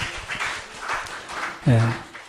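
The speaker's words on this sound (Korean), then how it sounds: "우리 하나님께 박수 올려드려요." A church congregation claps in a steady rhythm during a Sunday sermon, a run of evenly spaced hand claps at moderate volume, with a voice briefly calling out over them near the end.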